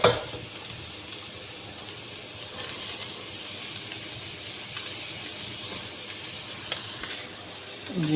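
Chicken and carrots fry lightly in a pan for a homemade soup, giving a steady, even sizzle and hiss with occasional soft stirring scrapes, close and alone without talk.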